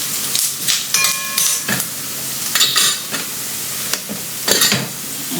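Onions sizzling and frying in a hot pan, with intermittent bursts of stirring and clinking utensils over a steady hiss.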